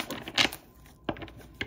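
Tarot cards shuffled by hand in a few quick riffling bursts, close and fairly quiet, with short pauses between the crisp papery flurries.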